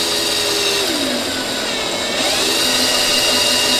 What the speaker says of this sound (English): I can kind of finesse this with the drill where it's not running real fast